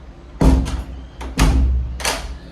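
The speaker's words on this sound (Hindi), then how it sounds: "तो दरवाज़ा बंद कर देते हैं।" A house door is swung shut in a quiet home at night, giving a few sharp thuds and latch clacks in quick succession, close and fairly loud.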